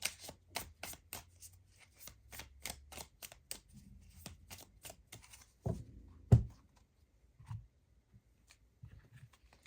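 Tarot cards from The Witch's Secrets deck are shuffled in a quick run of crisp, evenly spaced snaps and clicks, followed by a couple of duller thumps and scattered soft taps, close and clear.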